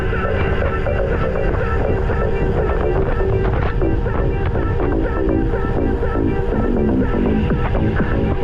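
Warm headwind buffets the microphone on a coastal road in Crimea near Novy Svet, Sudak and Koktebel, a steady loud rumble of wind noise filling the whole stretch with no clear voices.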